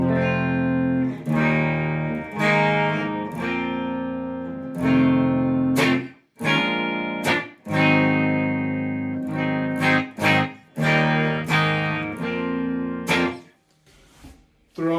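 An electric guitar with a Five/95 humbucker pickup plays a bone-dry clean tone recorded direct with no effects. Sustained chords and picked phrases ring out loud and close, separated by short string-muting gaps, with no voices.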